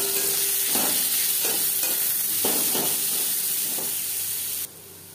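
Two chopped onions fry in a separate kadai for a puti fish curry gravy, with a constant close sizzle broken by a few evenly spaced scrapes of stirring.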